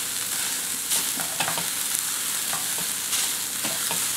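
Onions sautéing in vegetable broth in a pan without oil, a soft steady sizzle with repeated scraping stirs of a spatula across the pan bottom.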